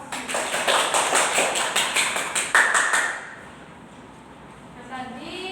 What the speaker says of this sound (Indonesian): Teman-teman boleh dikasih aplaus.